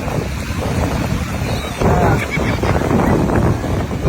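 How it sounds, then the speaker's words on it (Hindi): Big sea waves surging and washing ashore at a Mumbai beach, a broad continuous roar with wind buffeting the microphone and people talking over it. "ये समुद्र का लहर।"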